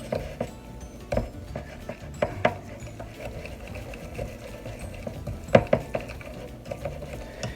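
Cinnamon raisin bread batter stirred in a bowl, with steady scraping and soft clinks of a utensil against the bowl, a few sharper knocks standing out, close and moderately quiet with no talking.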